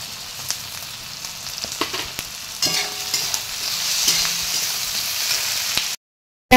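Chilli mushrooms with spices, ginger, chilli powder and sugar stirred in a sizzling frying pan, a steady fry hiss with scraping spatula strokes throughout, ending abruptly in silence.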